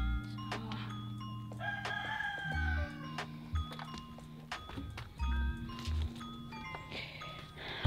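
Chickens cluck and a rooster crows repeatedly inside a backyard chicken coop, close and fairly loud, with overlapping calls and low thumps.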